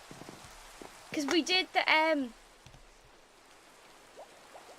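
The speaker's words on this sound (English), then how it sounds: "Typical, it's just started to rain." Rain falling in the video game Minecraft, a soft continuous patter with scattered drops throughout, faint under a man's short stretch of talk.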